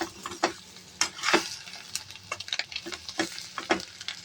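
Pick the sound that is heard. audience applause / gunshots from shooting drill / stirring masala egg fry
stirring masala egg fry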